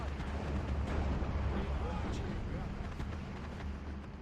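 Maxim machine guns firing in the World War II strategy game Steel Division 2, a steady dense rumble of distant automatic fire and battle noise running continuously throughout.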